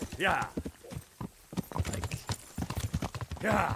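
Horse hooves clip-clop in a steady riding rhythm in the video game Kingdom Come: Deliverance, close and clear, with a horse whinny near the start and end and people talking over the hoofbeats.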